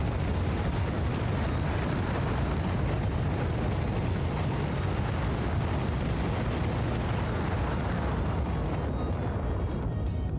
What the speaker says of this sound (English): 8 rockets launch. Yeah, 8 rockets.